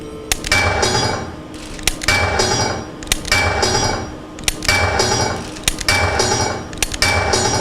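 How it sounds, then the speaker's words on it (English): Shots from a recoil-free police training gun strike target plates as a steady series of sharp metallic clanks and clinks, loud and close, spaced about a second apart. "just take your time shooting those plates"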